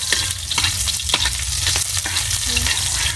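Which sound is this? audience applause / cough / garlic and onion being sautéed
garlic and onion being sautéed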